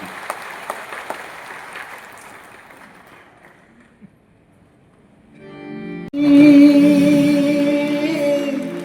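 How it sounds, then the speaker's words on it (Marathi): An audience in an auditorium gives a burst of clapping that fades away over a few seconds. A short quiet follows, and then music starts up loudly. "जोरदार टाळ्या हो देत"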